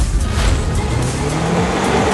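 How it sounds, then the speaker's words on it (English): A cartoon monster truck's engine roars loud and close with a rough, continuous rumble, and a faint tire squeal blends into the noise as it flies over a ramp. "Look at that monster truck fly"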